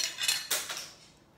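Dishes and cutlery clink and rattle close by in a home kitchen after a chicken and broccoli alfredo dinner, a quick burst of bright clatter that fades to quiet.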